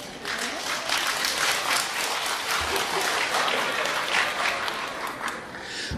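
Audience applause at a live xiangsheng comedy show at Tianjin Deyunshe fills the room steadily for several seconds, fairly thin and scattered rather than a full roar.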